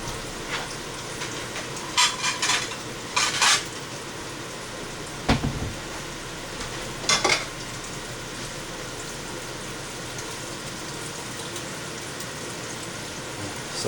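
Eggs fry in about half a teaspoon of butter in an All-Clad Essentials hard anodized nonstick fry pan, a soft steady sizzle broken by a few louder crackling pops and a single sharp tap of a utensil midway.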